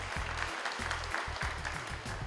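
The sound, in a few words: audience applause for Mrs. Elizabeth Paisat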